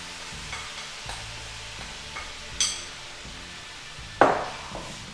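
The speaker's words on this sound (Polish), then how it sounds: "Na tym etapie, kiedy mój cukier zamienił się w karmel, dodaję pomidory pelaki." Peeled tomatoes go into caramelized sugar in a pan and are crushed with a spoon: soft scattered taps and scrapes, then a sharper sizzling burst near the end, close and fairly quiet, with no voices.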